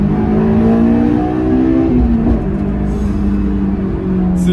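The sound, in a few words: Honda S2000 engine revving, downshifting to second gear, VTEC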